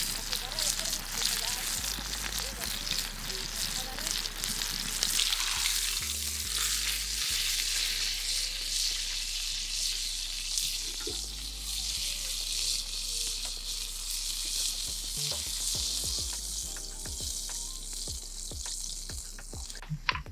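Steaks frying in very hot oil in a pan at a campground, a loud continuous sizzle and crackle running throughout with intermittent low thumps, and voices talking over it.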